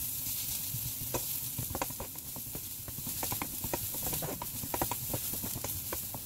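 Purple garlic frying in oil for squid ink seafood pasta crackles steadily, with dense popping bursts throughout, close and fairly quiet, with no voices.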